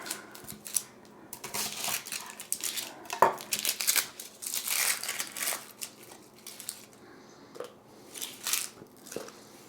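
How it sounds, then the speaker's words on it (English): Papery onion skin being peeled by hand in a kitchen for a Dutch casserole, with close, dry crinkling, tearing and crackling bursts coming in irregular spurts. "So we have to cut our onions into slices. So I'm going to peel it."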